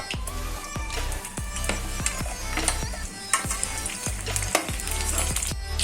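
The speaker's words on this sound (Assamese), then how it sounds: "এতিয়া পটলখিনি ভাজি লম।" Oil sizzles steadily as pointed gourd fries, with a spatula clacking against the pan roughly every half second in an irregular rhythm.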